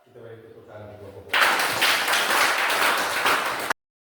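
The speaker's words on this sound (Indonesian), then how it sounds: "Kita beri tepuk tangan untuk kelompok 4." Classroom of students clapping together for a group of classmates, a dense burst of close applause that starts abruptly after a spoken line and runs for a couple of seconds before cutting off.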